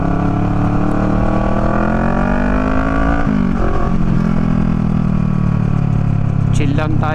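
Dense road traffic with many vehicles heard from a rider on a mini motorcycle, a steady loud engine drone and wind noise throughout with rising and falling revs, a brief shift near the middle and a higher whine near the end.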